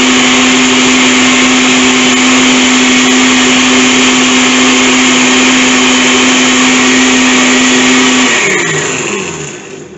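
A blender whirs steadily and loudly while mixing garlic sauce, holding a constant motor drone for about eight seconds before spinning down toward the end.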